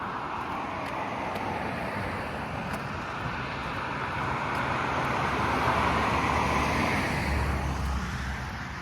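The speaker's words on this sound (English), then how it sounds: "got some cars going by" Cars pass steadily along a road near a hilly walking path, a continuous broad traffic rumble with gentle swells as vehicles go by, mixed with light wind, no voices.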